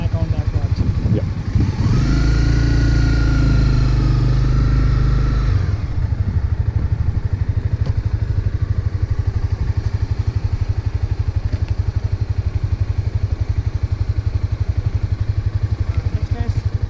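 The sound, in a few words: motorbike riding during a licence test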